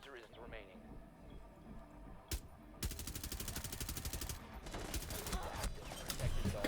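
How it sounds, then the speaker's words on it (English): Automatic gunfire from a heavy-recoil weapon in a first-person shooter video game, a rapid stream of loud shots running from about three seconds to the end, preceded by a single sharp report, with game ambience beneath. "The recoil on his gun is fucking rough, man."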